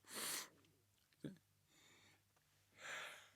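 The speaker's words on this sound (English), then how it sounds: "I'm going to sneeze, sorry." A single sharp sneeze bursts out close by, surrounded by breathy sniffs and exhalations.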